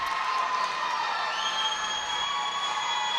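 A large gymnastics crowd in Reynolds Coliseum at a college meet between the North Carolina Tar Heels and NC State Wolfpack cheers in the distance, a faint, steady, washed-out roar with no clear individual voices.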